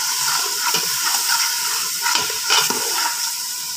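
Food sizzles and hisses steadily in a pan while salt, pepper and seasoning are stirred in, with a few soft scraping strokes close by.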